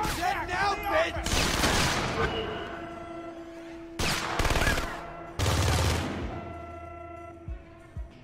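Bursts of gunfire ring out in the Splinter Cell: Conviction video game. Three or four loud volleys with echoing tails are separated by short lulls.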